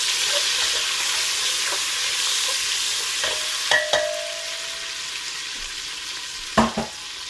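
Onions frying in a pot with a little salt for a Nigerian efo riro spinach soup, a steady close sizzle running throughout with a few brief clinks and stirring knocks, no talking.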